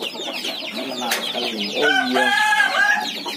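Chickens in an amateur coop cluck and call close by, a busy run of short repeated notes with a longer crowing-like call in the second half, while a person speaks briefly.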